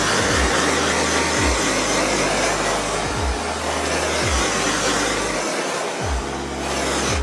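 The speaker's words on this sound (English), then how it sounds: "I'm gonna use a torch just to heat it up." A torch heating the adhesive strip of car underglow lighting roars with a steady, loud, close hiss that runs unbroken throughout, with low rhythmic thumps underneath.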